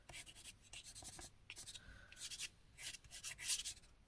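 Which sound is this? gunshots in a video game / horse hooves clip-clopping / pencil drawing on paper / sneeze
pencil drawing on paper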